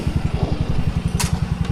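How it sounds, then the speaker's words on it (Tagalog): Motorcycle running close by while being moved, its engine giving a steady, rapid low putter of even pulses, with a brief hiss near the end and no talk. "Ililipat lang yung motor."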